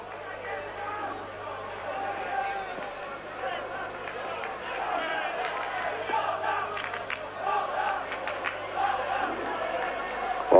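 A football stadium crowd at a European Cup tie between Standard Liège and Dundee United shouts and chants in protest, a dense sustained roar with rising bursts. A commentator speaks over it.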